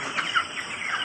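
Young chicks on a small backyard poultry setup chirp and peep in a steady, busy chorus, close by and fairly loud, with overlapping calls and no talking.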